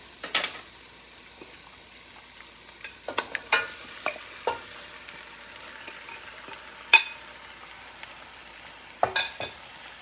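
Marinated lamb meat is stirred into a frying masala tadka, giving a soft background sizzle broken by sharp stirring scrapes and clatters of a spoon against the pot at irregular intervals, close and fairly quiet.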